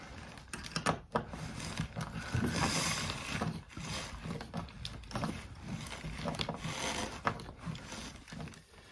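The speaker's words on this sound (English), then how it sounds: "So I'm just going to tighten down the 1 screw. And I'll do the same for the other side." A screw being driven into the metal mounting plate of a Google Nest Thermostat, heard close up as a run of small clicking, ratcheting turns with brief scrapes and pauses, no talking.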